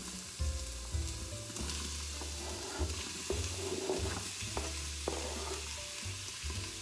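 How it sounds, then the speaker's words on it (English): Chopped onions and carrots sauté in a hot Instant Pot, a close crackling sizzle broken by spoon scrapes and stirring clatter, with no voices. "we're gonna saute the onions, the carrots, not the green onions"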